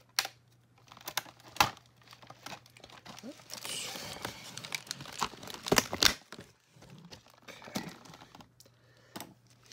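Crinkly plastic packaging rustles and crackles while a Rainbow High doll is pulled free, with sharp irregular snaps and bursts of crumpling over about ten seconds and a voice speaking briefly in between.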